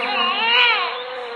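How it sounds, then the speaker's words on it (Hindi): A newborn baby cries in a cartoon story, a single high, wavering wail that swells and then fades slightly, heard clearly and alone. "तभी उसे एक बच्चे के रोने की आवाज आती है"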